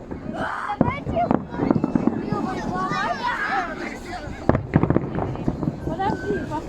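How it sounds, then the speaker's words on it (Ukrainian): New Year fireworks salute over the embankment in Naberezhnye Chelny, with several sharp distant bangs and crackles, one burst near the start and a cluster later, under a crowd's chatter and close voices talking. "Такой красивый салют."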